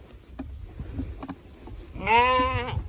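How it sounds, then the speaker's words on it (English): Sheep bleating once, loud and close, a wavering drawn-out cry near the end after scattered soft farmyard knocks and shuffles. "Come on, sheep, sheep, sheep."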